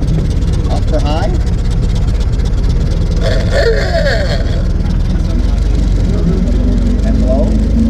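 A 1916 Ford Model T engine runs steadily while driving, a continuous low rumble and chug underneath a person talking throughout.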